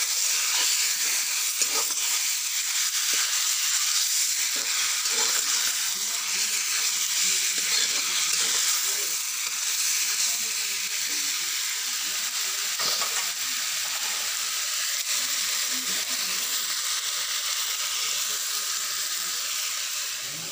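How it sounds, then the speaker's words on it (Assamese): Meat fries in a pan on a home stove for an Assamese meal, a steady loud sizzle and hiss that runs unbroken throughout, with soft scrapes of stirring now and then and no talking. "আৰু এয়া এনেকৈ ভাজি লৈছোঁ অলপ দেৰি।"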